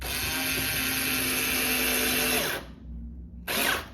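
A power drill runs at high speed for a couple of seconds as it bores into wood, stops briefly, then gives one more short burst.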